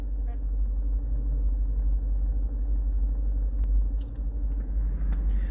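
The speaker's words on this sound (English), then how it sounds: "Look at the traffic just in this little area here." Busy Los Angeles city street traffic at night: a steady low rumble of car engines passing and idling, with faint scattered higher clicks and noises over the constant drone.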